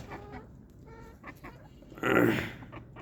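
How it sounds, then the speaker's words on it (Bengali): Native free-range chickens cluck in short, scattered bursts nearby, and one louder, sharper squawk breaks out about two-thirds of the way through. "দেশি মুরগি অনেক চঞ্চল, সুযোগ পাইলেই দূর"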